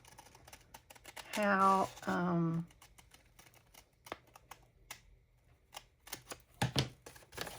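Scissors snip through paper for a junk-journal envelope, with short, crisp cuts clustered in quick bursts. A voice speaks briefly early on, and a few louder rustles and clacks follow.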